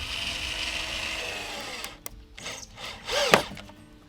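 A power drill drives screws into a wooden board in short whirring bursts, close and moderately loud, with a sharp knock and a rising whine near the end.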